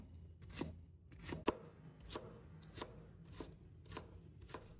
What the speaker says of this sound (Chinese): 再改刀切成长条，再切成土豆丁